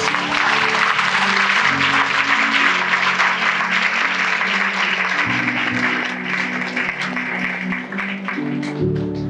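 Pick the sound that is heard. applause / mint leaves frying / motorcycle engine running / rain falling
applause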